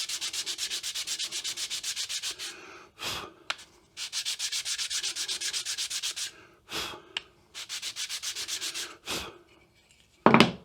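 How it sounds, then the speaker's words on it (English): A wooden workpiece sanded by hand with abrasive paper, loud close rhythmic rubbing strokes in several bursts separated by short pauses and a few knocks. "And sand this face."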